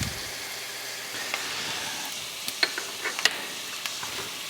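Onions and garlic sautéing in a pot on a medium-high stove, a soft steady sizzle with a few light stirring taps and scrapes.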